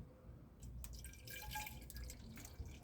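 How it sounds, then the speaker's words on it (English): Tap water pours into the bottle of a sparkling water dispenser as a faint, quiet trickle with small splashing drips and light gurgles, close by. "We'll just take some water here and fill it up"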